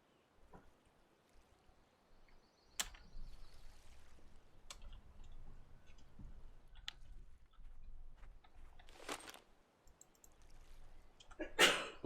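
A single short sneeze sounds near the end of the stretch, loud and abrupt against a quiet background of scattered clicks and a faint low hum.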